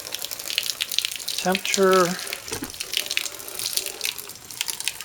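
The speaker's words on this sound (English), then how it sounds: "This first water comes out real hot." Hot water runs steadily from a beer wort chiller into a sink, a continuous hiss and splash throughout, with a brief spoken word in the middle.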